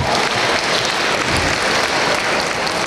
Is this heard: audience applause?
yes